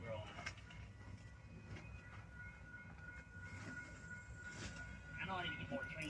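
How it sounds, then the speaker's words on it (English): A Union Pacific or BNSF freight train rolls past in a Texas town, its steady rumble and wheel noise continuous throughout, with a horn sounding from another track; faint background voices occur. "I'm hearing a horn from the other track in town over there."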